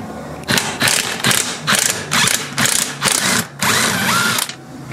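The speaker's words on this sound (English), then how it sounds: "I'm using a swivel with an impact" An impact wrench fitted with a swivel socket removes a seat bolt on a Chevy Avalanche. It fires in about six loud, close bursts of hammering, each lasting roughly half a second, with short gaps between them and no talking.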